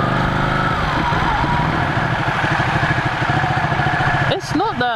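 Ducati 1199 Panigale S motorcycle idling in race mode, a steady close, loud engine rumble with a pulsing beat, briefly revved at the end while someone talks over it.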